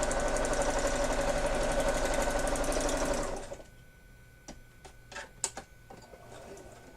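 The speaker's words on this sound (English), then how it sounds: "Just sew around the whole part." A sewing machine stitches around a glued part, whirring loud and steady for about three seconds before stopping, leaving a few scattered faint clicks and taps.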